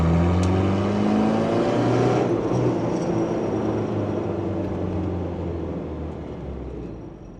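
A Land Rover 300 Tdi diesel with a VNT turbo accelerating at full throttle, a loud, steady engine drone heard from inside the vehicle that slowly fades over several seconds.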